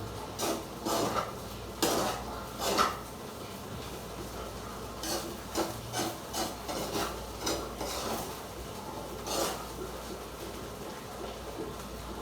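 A ladle stirs and scrapes inside a non-stick pan on the stove, giving irregular metallic clinks and scrapes in bursts over a low steady background hum, fairly close and without talk.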